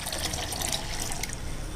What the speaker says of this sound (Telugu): వేసేసుకొని మళ్ళీ వాటర్ వేసుకోవాలి.